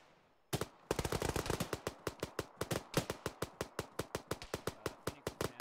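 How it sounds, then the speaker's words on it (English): A long string of evenly spaced gunshots in an Arma game, fired from a rooftop, sharp and loud, a brief cluster and then a steady rapid rhythm of single cracks. "Shots from the rooftop there."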